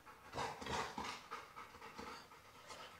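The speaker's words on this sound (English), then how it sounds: "У меня тут собака." A dog panting close by in quick, steady breaths, faint and soft with a slight rasp, repeating evenly without other sounds.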